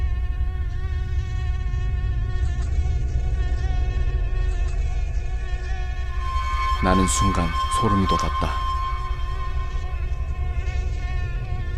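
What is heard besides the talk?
mosquito buzzing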